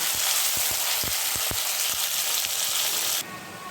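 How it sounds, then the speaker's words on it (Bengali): Chopped onion fries in hot oil while being browned for Bengali mutton kosha, a loud, steady sizzle punctuated by several light taps of a spatula. The sizzle drops noticeably quieter just before the end. "সে পেঁয়াজ কুচিটা তেলের মধ্যে দিয়ে দিলাম। পেঁয়াজটাকে আমি ব্রাউন কালার করে ভেজে নেব।"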